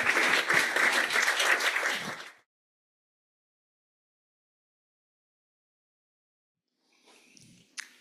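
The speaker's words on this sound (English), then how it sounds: "So let's give Roger another round of applause." Seminar audience applause, a dense wash of clapping for about two seconds that stops abruptly, followed by silence and then faint shuffling and small knocks near the end.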